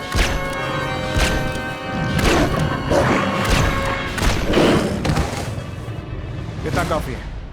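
Gunfire in a sci-fi battle scene, several heavy thumping shots and booms mixed with shouting voices and creature-like roars, loud and chaotic throughout.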